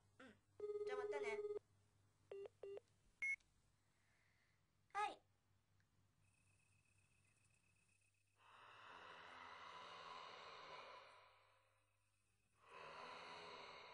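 A telephone rings in a Japanese horror video game, with two short electronic ring bursts followed by quieter rings, and then a breathy, noisy stretch of sound.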